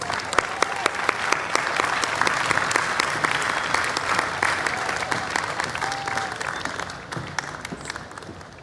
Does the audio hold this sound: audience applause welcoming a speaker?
yes